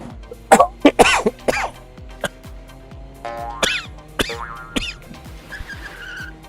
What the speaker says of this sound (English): Oh wow, this cough.